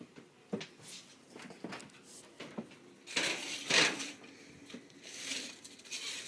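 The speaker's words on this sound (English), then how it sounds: "So now we are going to put it in the oven" A metal cookie sheet of vegan gluten-free cookies slides into a home oven, with clanks and rattles of the pan and oven rack in quick irregular knocks, close and moderately loud.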